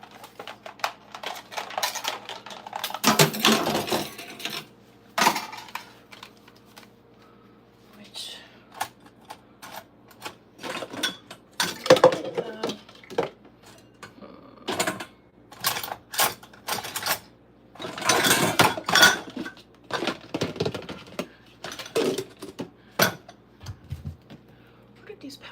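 A hand mixer taken out for cake assembly makes scattered clicks, rattles and plastic knocks in bursts amid quiet handling, with brief soft talk in the background.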